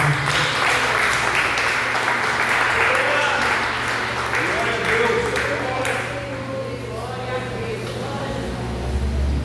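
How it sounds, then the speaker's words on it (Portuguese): A church congregation applauds loudly for several seconds before the clapping thins, while voices and sustained tones, likely singing or music, rise underneath. "Se você pode, aplaudir o nome de Jesus"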